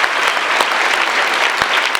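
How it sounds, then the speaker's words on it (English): Audience at a high school ceremony applauding three students, a loud, dense burst of clapping from a large crowd, steady throughout. "Let's give these three students another round of applause."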